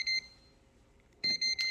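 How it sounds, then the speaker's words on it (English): A handheld voltage tester chirps at a live outlet: a short high electronic beep, a pause, then two more quick beeps, close and clear. "it beeps if there's a hot current there"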